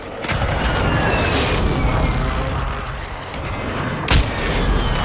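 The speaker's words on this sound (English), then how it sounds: "Friendly airstrike in the AO." A friendly airstrike pounds the area in a video game: a continuous loud roar of heavy explosions and rumbling blasts, with one sharper boom near the end.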